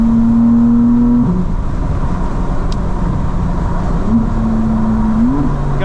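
A 900 hp BMW M4 CS pulls hard under heavy acceleration, its loud, close engine note climbing in pitch, cutting briefly at a gear change from fourth to fifth, then rising again, with steady road and wind roar underneath.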